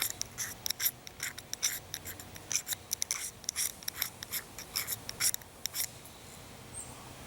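A scraper tool rasping against a magnesium fire-starter block, producing quick bursts of close, dry scraping strokes in an uneven rhythm before trailing off into quiet.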